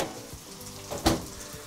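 Lemon sole fries in a hot pan in a kitchen with a steady, even sizzle and soft crackle, one louder spitting flare rising briefly midway, with no voices over it.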